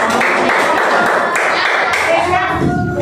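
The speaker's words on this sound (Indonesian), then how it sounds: "tepuk tangan buat Mas Fata." A burst of clapping from a small group in a classroom, with children's voices mixed in and the applause fading toward the end.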